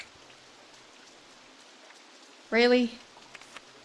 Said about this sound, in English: Second rain right at the start.